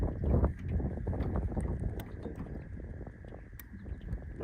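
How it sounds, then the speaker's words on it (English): Wind buffets the microphone on a fishing boat out on open water during a crappie outing, a loud, continuous low rumble that swells and eases with the gusts, with no voices. "We gotta fight the wind again, so I apologize in advance for the extra noise."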